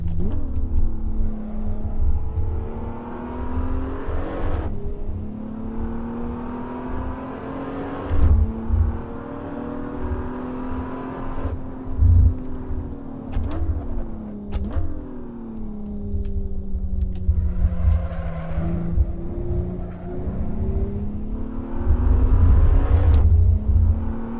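A BMW Z4 racing on track in the Assetto Corsa sim, its engine revving up and down through gear changes for a long stretch, loud and continuous with rumbling lows and no voices.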